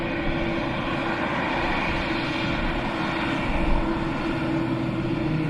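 Qatar Airways Boeing Dreamliner at Dublin Airport, a sustained loud jet engine roar with a steady low drone and a faint whine, continuous and fairly near.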